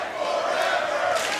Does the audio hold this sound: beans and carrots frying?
no